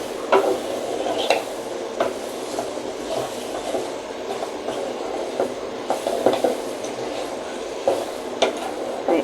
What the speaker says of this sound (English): we are going to stir for around 1 minute to allow it to mix well with the beef